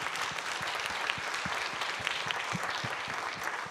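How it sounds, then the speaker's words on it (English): Audience at a native plant panel discussion claps steadily, a dense wash of applause that holds at an even level throughout with no voices over it. "Can we give them a round of applause, please, for making this happen?"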